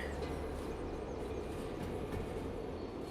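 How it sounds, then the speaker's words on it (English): Rolling freight train in the Derail Valley game slowing under its train brake, a steady dense rumble and rail hiss that holds at an even level throughout, with no voices. "I'm going to use the train brake instead of the Indy brake"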